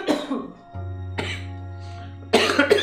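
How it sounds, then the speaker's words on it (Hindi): A person sick with fever and a cough at home lets out three rough coughing bursts, with a steady low electrical hum running underneath from the second burst onward. "तेरे को देख के मुझे भी खांसी हो रही है अब"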